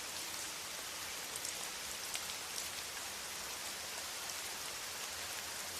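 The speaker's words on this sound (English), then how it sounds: "The rain drums on the library roof like someone's tapping their fingers" Rain falls steadily on a library roof, a dense even hiss of drops with faint scattered taps, soft and continuous with no voices.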